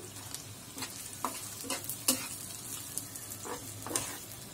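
Chopped onion and garlic fry in oil in a pan, a soft, quiet sizzle with occasional scraping stirs and light clinks spread across the scene, no talking.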